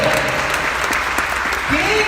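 A church congregation claps in a dense, steady wave of applause at a religious service, loud and close, with a preacher's voice carrying over it.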